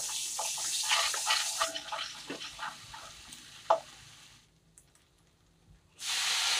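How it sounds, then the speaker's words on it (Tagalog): Water is poured into a Korean-style fried chicken mixture, giving a steady hissing, splashing flow for several seconds that stops, leaving near silence, before another burst of pouring. "Lagyan nyo ng konting water."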